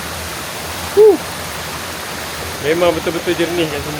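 A waterfall near a campsite roars as a steady broadband rush throughout. A voice talks briefly over it.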